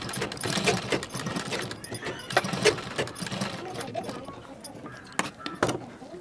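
A sewing machine stitching a blouse sleeve, bursts of rapid mechanical clatter that stop and restart, close and fairly loud, with a voice heard briefly in places.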